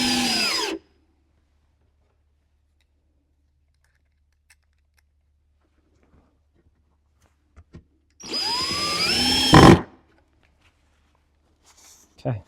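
A power drill drives wood screws into a soft-wood Langstroth 10-frame hive body during assembly, in two close, loud whirring bursts separated by a long quiet gap.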